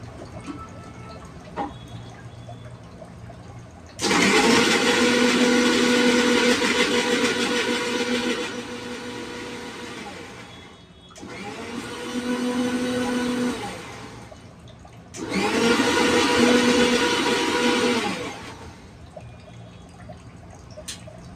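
A faulty mixer grinder grinding crab masala paste whirs loudly in three separate bursts, each a few seconds long, with quiet pauses between them.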